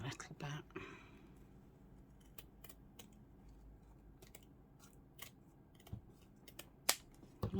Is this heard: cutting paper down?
yes